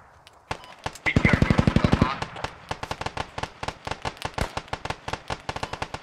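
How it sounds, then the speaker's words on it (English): Sustained automatic gunfire in the military shooter Squad, a fast burst followed by steady rapid shots continuing throughout, loud and close with muffled talk beneath. "We need suppressive fire on that point."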